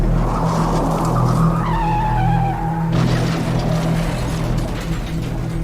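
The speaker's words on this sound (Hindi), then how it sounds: "ये आवाज़ आती है कि जैसे रॉय का भी एक एक्सीडेंट हो गया हो।" A car's tires screech in a rising, wavering squeal over a steady engine drone, then cut into a harsher scraping burst that continues loudly, close and without talk.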